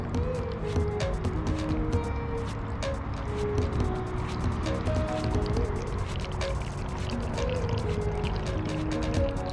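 Water is poured to fill a bottle, a continuous splashing, trickling stream with dripping, close and steady for the whole stretch.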